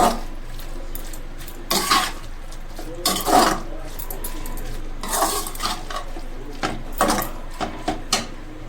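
Cauliflower sabji with spice masala being stirred in a pan, a spoon scraping and clinking against the metal in repeated irregular strokes, close and fairly loud, with no voices.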